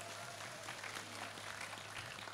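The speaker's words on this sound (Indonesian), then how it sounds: "Tepuk tangan untuk PSKJ." A crowd at a halal bihalal religious gathering in Kendal claps steadily, and the sustained applause sounds faint and distant over a low electrical hum.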